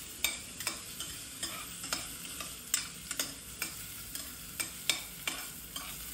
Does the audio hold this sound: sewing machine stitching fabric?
no